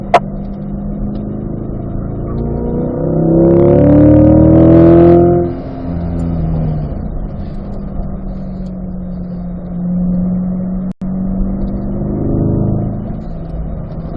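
Racing car accelerating on a racetrack at a performance driving school, its engine note climbing in a strong, near rising sweep, then settling into a steadier drone before a second, gentler push.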